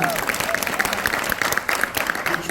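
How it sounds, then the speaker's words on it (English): Audience applause and cheering for a singer at a live showcase, dense continuous clapping across the whole stretch with crowd voices mixed in, moderately loud. "Can we clap it up for him?"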